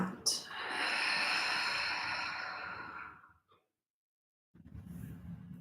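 A slow, deep exhale during a yoga session, a long breathy rush of air that swells, holds steady for about three seconds and tapers off, followed by quiet and then a softer breath.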